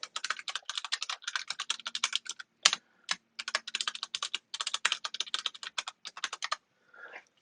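Rapid bursts of computer keyboard typing as a username and password are entered at a command-line login, close and crisp with short pauses between runs of keystrokes, ending in a faint rustle.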